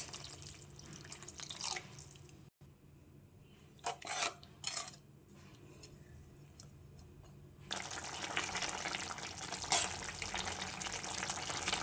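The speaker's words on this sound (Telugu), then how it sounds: "ఇప్పుడు కొంచెం వాటర్ వేయాలి ఫ్రెండ్స్." Water is poured into a pan of bean curry in a home kitchen, with soft drips and splashes and a few clinks of utensils, followed by a louder steady rush of water near the end.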